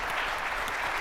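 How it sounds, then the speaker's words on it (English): Applause for the panelists at a salon event, a steady wash of clapping from a crowd filling the whole second with no voices over it. "let's give our panelists a big round of applause"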